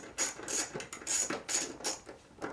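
Ratchet wrench working a 10 mm bolt off the intake of a Toyota JZX90, giving short bursts of bright clicking in several quick spurts, fairly close and moderately quiet with no talk.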